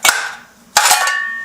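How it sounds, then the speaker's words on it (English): A soft hammer strikes sheet metal on an Enfield 350 Bullet motorcycle twice, each blow close, loud and ringing metallically before fading, with no talk. "So I'll keep working on it here with a soft hammer to work on it like that."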